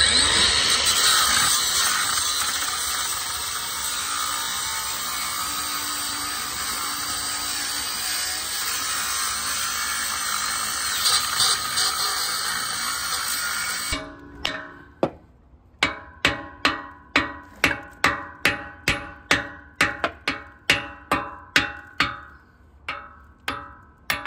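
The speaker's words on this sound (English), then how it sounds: "this one's been welded on, so I'm just going to have to trim it off with the grinder now" Angle grinder trimming a welded-on tooth from a combine header, a steady loud high whine for about fourteen seconds, then cut off and followed by a series of sharp rhythmic metallic knocks.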